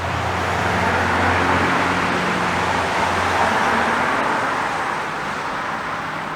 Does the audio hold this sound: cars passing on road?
yes